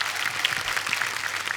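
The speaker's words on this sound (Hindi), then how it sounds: "जोरदार तालियां" Brief burst of studio audience applause on a TV comedy talk show, a soft, diffuse wash of clapping lasting under two seconds.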